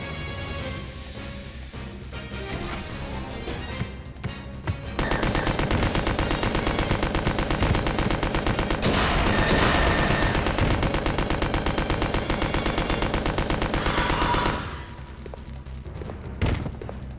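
Rapid submachine gun fire in Resident Evil Code: Veronica rattles in sustained loud bursts, broken by brief pauses, with no talk over it.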